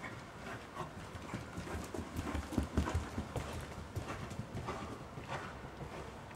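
Hooves of a horse clip-clop in a steady working trot during a dressage test, the footfalls close and regular throughout with no talk over them.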